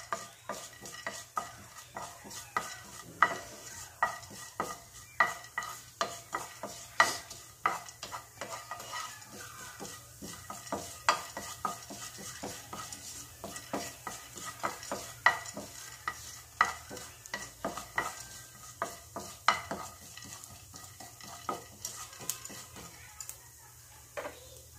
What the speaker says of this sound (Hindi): उसको थोड़ी देर से भून लूँगी ताकि जीरा का जो अच्छी तरह हो जाए जीरा और चना दाल